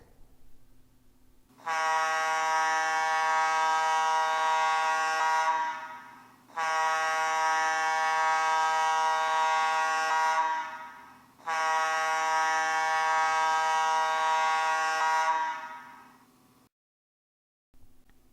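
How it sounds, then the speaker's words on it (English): Gas plant evacuation alarm on air horns, three long steady blasts of a loud, harmonically rich horn tone, each lasting about four seconds with short gaps, followed by silence. "The plant evacuation also uses the air horns, but in a completely different pattern."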